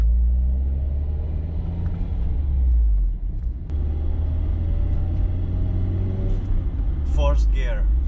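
Toyota Caldina with a 3S-F engine and manual transmission on a test drive through the gears: a steady low engine and road rumble, with a brief dip and change in tone partway through as a gear is shifted.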